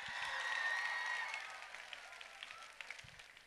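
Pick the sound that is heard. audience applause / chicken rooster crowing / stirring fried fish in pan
audience applause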